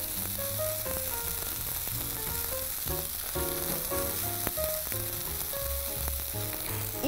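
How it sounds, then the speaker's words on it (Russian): Food for a sweet breakfast sizzles and fries steadily in a covered pan over low heat, a constant hiss running under soft background music. "Оставляю на несколько минут сковородки под крышечкой на маленьком огне."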